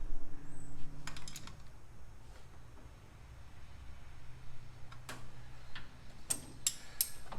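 A socket wrench ratchets on a 1971 Chevy C10 pickup, giving faint, quick clicking bursts early on and a sharper cluster of clicks near the end over low background hum, with no voices.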